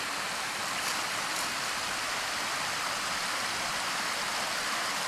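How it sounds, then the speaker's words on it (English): Water from an abandoned, collapsed coal mine runs down a steep drop into a creek, a steady broadband rush with no voices. "that's the water running out of this mine that I just opened here"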